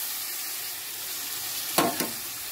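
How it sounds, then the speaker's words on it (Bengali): Fish masala for a koi fish tel jhal curry is stirred in a pan, a faint background sizzle broken near the end by two short, sharp scraping stirs. "জলটা দিয়েও আমি ভালো করে নেড়ে ছেড়ে নেব।"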